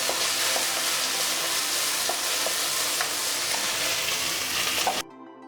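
Chopped tomato pieces hit a pan of fried ginger paste and sizzle loudly and steadily, with faint stirring clinks, before the sound cuts off near the end.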